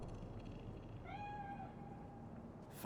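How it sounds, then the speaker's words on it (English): A cat in the video game Cyberpunk 2077 lets out a single thin meow, faint and somewhat distant, over a quiet ambient hum. "Do you see it? That cat?"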